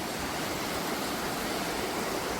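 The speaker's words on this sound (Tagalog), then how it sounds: "Yan ang tubig." Flowing water gives a dense, steady rushing hiss that stays even and fairly loud throughout, with no voices over it.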